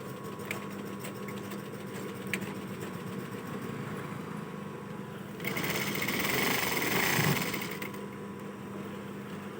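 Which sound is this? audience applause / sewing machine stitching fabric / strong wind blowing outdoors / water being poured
sewing machine stitching fabric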